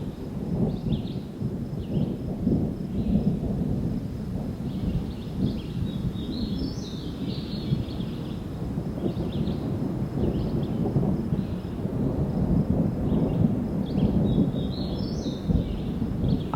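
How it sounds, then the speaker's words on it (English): Low, rolling thunder from a passing storm rumbles steadily throughout at a campsite, with faint bird calls chirping over the top now and then. "I've been hearing thunder for about the last 10 minutes or so."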